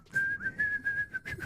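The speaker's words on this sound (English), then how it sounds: "Can you do the original Mickey Mouse whistle?" Someone whistles a short, bright, sustained tune in the style of the original Mickey Mouse whistle, a clear wavering pitch held for about a second and a half, close and alone without speech.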